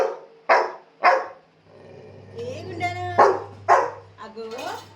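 A small puppy gives several short, sharp yips and barks at close range, with a person talking in between.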